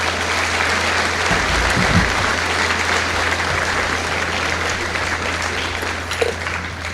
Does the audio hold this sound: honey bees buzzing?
no